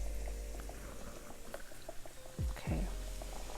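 Fish fries in a hot skillet with a steady bubbling sizzle and soft crackling pops, rising into a louder hiss and swell as more pieces go into the pan.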